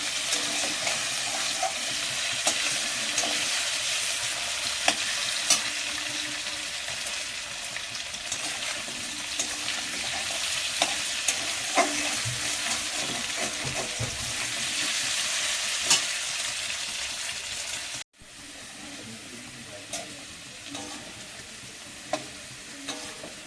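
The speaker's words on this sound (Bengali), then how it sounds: "আলুটা লাল লাল করে ভেজে নেব।" Potatoes fry in hot oil in a wok with a constant crackling sizzle. Occasional scraping stirs cut through the frying, which runs close and fairly quiet the whole time and breaks off briefly near the end, with no voices.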